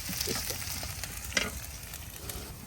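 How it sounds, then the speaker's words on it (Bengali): Lightly ground onion frying in a pan over a wood-fired stove, a soft continuous sizzle with faint stirring scrapes and one sharper clink, fairly quiet and close. "এখন আমি একটু পেঁয়াজটা একটু হালকা বাটা দিয়ে প্রথমে বাজা দেব"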